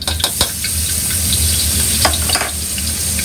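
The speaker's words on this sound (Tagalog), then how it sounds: "Magsosotay tayo ng garlic." Garlic sizzles in a hot pan, frying steadily close up with a few sharp scrapes and clinks as it is stirred.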